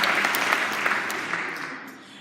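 A church congregation cheers and claps in a short burst of applause that fades out over a couple of seconds.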